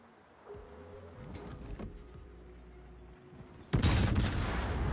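A loud tank cannon shot booms in a tank battle video game, a single heavy blast near the end after a quieter stretch of engine rumble and faint mechanical clanks.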